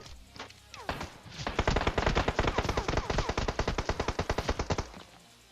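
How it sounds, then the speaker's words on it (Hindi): Rapid automatic gunfire in the mobile battle royale game PUBG Mobile, a dense, loud burst of evenly spaced shots lasting several seconds before cutting off, with a few scattered shots just before it. "गोलियां पड़ती अचानक से"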